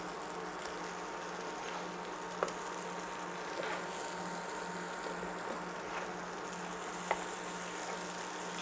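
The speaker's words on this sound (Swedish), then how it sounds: "I med biffen i en panna med smör." Beef patties fry in butter in a pan with a steady, even sizzle throughout, broken by a few faint clicks and taps, close and moderately quiet.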